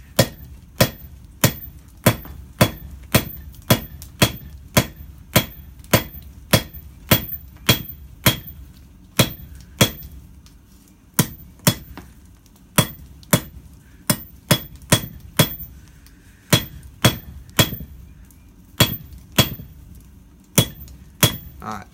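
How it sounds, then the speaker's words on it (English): Hot metal being hammered on an anvil to forge and thin out a leaf keychain, sharp ringing strikes repeating steadily in quick pairs and runs, close and loud with no talking. "And then you're just going to start hammering it and thinning it out right here."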